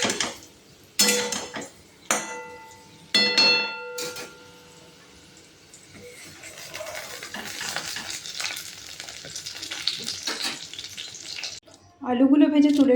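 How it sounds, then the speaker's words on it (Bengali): Potatoes frying in oil in a pan for a duck egg and potato curry: a few sharp utensil clanks open, then a steady sizzling hiss builds and holds, ending with a louder burst. "আলুগুলো বেশ লাল লাল করেই ভাজবো।"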